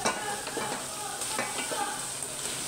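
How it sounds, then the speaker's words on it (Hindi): Chicken liver dropped into hot ghee and masala in a pan sizzles loudly and steadily, with a spoon stirring and clinking among the pieces throughout and no talk. "अभी मैं कलेजी डालती हूँ।"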